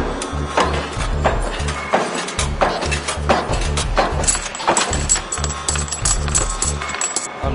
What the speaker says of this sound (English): I'm just putting it into this slot right here, bending the end down, blanking it, and the motor's just pressing those round punches down